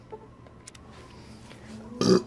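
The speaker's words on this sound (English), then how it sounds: "I had to burp there." A single short, throaty burp erupts near the end, fairly loud against a quiet room with no talking.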